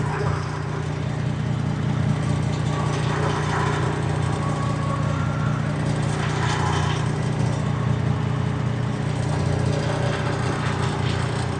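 A loaded semi truck's engine idles steadily and loudly from a hood-view position, a continuous low rumble that holds for the whole stretch with faint mechanical clatter above it.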